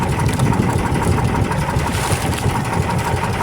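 Loud, continuous throb of a service boat's motor droning up close at an even pace, rough and buzzing, with no speech over it.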